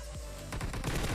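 M4 rifle fire in a video game: a brief, close burst of rapid shots rattling out in the second half, after a short quieter lead-in.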